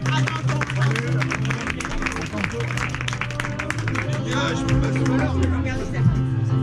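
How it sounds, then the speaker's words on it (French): Pub audience applauding, a mid-loud wash of clapping and crowd murmur running under a voice as he keeps talking over it. "vous pouvez les applaudir quand même"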